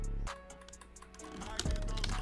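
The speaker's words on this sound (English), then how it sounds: "Audible, chill with your keyboard" Rapid computer keyboard typing comes through voice chat during Shindo Life gameplay on Roblox, a dense clatter of keystrokes mixed with game sounds.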